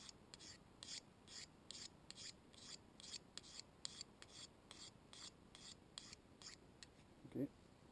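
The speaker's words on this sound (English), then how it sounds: "I have to scrape off some paint." A bushcraft knife blade scrapes paint off a surface in about fifteen quick, evenly spaced rasping strokes, close and fairly quiet, ending with a brief louder knock.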